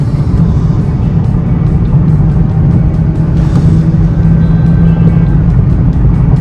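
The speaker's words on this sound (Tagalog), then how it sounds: "Third gear, we're gonna push it." A 2015 Mazdaspeed 3, third-generation, pulls hard in third gear with a loud, sustained engine roar and a steady rising drone heard from inside the cabin, with no voices over it.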